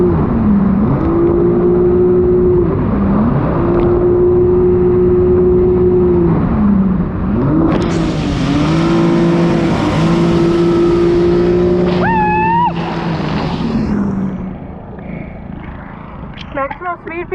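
A Kawasaki Superjet four-stroke jet ski fitted with a ride plate and intake grate runs flat out at about 57 mph, its engine holding a loud steady tone that dips and recovers, with a rider talking over it before it fades.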